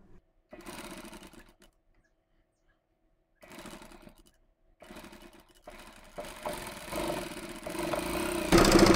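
A sewing machine runs stitches along the lining of a blouse in several short bursts, close and moderately loud, rising toward the end, with a voice speaking over parts of it.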